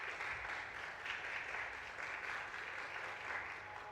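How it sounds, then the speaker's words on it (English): Audience applause at a Lagos Mainland conference, a steady sustained wash of clapping from a crowd, fairly faint and even throughout with no talk over it. "Please give him a round of applause as he comes up."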